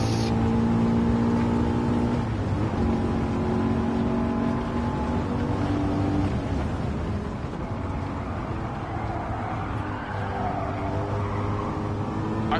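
A 5-liter V8 American muscle car engine in the video game Gran Turismo 7 drones steadily and loudly at high revs, its pitch shifting slightly as the car drives on, with no talking.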